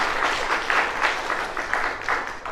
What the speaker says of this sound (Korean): 성가대 우리 반주자님, 지휘자님, 성가대원 모두 또 귀한 찬송인데 박수 한번 해주실까요?